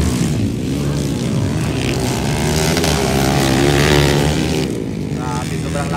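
Underbone motorcycles scream past in an open final heat, their high-revving two-stroke engines loud and buzzing, rising and shifting in pitch as bikes close in, with an excited voice shouting over the roar.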